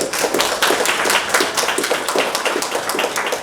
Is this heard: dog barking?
no